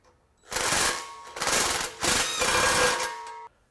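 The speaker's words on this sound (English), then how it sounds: "and snug up the clamp." A clamp on a Mustang GT cat-back exhaust is snugged up with a hand tool, producing close, loud bursts of rapid ratcheting clicks in several runs with short pauses between.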